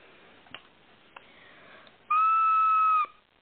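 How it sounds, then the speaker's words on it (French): A small plastic Dedenne Pokémon toy whistle is blown once, giving a steady, loud, shrill tone lasting about a second, preceded by faint handling clicks. "c'est un petit sifflet qui est censé normalement imiter le cri d'Eden"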